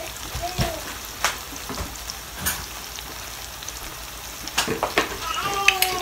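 Garlic puree hits the pan for Jamaican salt mackerel, giving a continuous close sizzle with sharp spitting pops and crackles scattered across the moments, steady and fairly loud.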